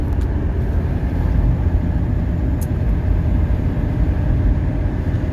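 A 1979 Mercedes 300SD on a drive, heard as a steady, loud, low engine and road drone inside the cabin that holds an even level throughout.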